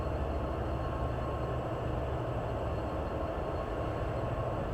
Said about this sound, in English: Here comes that train. I can hear it.